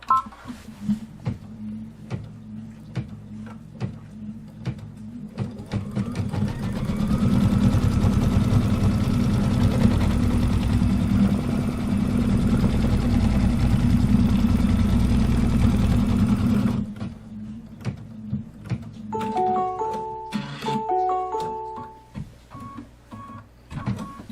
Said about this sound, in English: we're going to need to stitch out the placement line for the interior hoop fabric